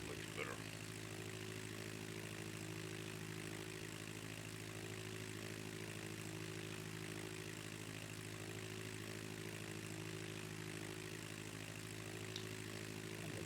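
Steady, continuous drone of a small propeller airplane's engine in flight on a trip from Brownsville, Tennessee toward Reelfoot Lake, heard from inside the cabin as an even hum with strong low tonal bands throughout.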